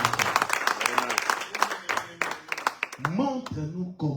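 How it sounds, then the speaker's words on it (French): A church congregation claps along amid voices, with sharp individual claps punctuating the sound and lively singing or speaking over them; the clapping is near and fairly loud. "Applaudissons pour Jésus."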